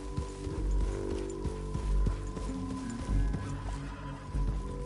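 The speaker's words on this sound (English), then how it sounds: "Get back on your horse, John." A video game horse whinnies and snorts over steady clip-clopping hooves, with a low ambient hum underneath throughout.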